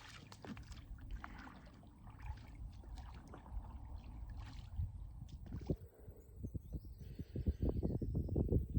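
A fishing boat is paddled by hand after its trolling motor dies while out jug fishing for catfish, heard as soft splashing and gurgling water strokes that grow louder and more rhythmic toward the end.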